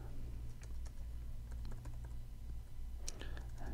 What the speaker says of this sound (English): If I can type localhost 8335